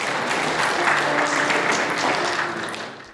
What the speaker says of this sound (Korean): 박수 부탁드리겠습니다